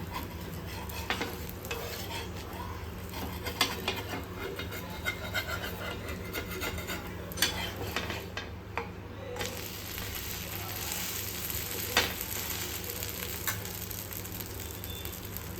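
Dosa cooking on a hot pan with oil, a steady close sizzle and frying hiss with occasional scraping and rubbing sounds throughout, no talk.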